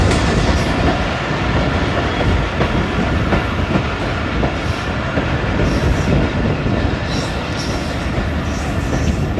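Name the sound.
passenger train arriving at Muzaffargarh railway station outer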